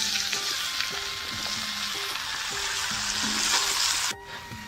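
Mixed vegetables with potatoes and yardlong beans frying in a hot pan, giving a loud, continuous close sizzle with faint clinks of stirring, which drops away sharply near the end.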